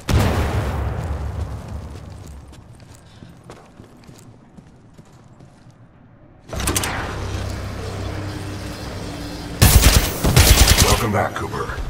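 A grenade explosion and gunfire in the Titanfall 2 video game, with a loud blast decaying slowly into quiet, then renewed bursts of shooting and another sharp explosion near the end.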